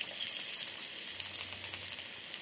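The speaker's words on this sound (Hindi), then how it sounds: "अब तेल हमारा हीट हो चुका है, इसमें हम पकौड़ियों को डालेंगे।" Pumpkin pakoras frying in hot oil, a continuous close bright sizzle with crackling pops scattered throughout, steady and alone without any talk.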